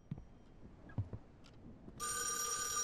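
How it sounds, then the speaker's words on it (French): A few faint scattered clicks and thumps give way to a telephone starting to ring inside a horror video game, a steady bright bell tone that continues to the end, with no talking over it. "Oh, téléphone."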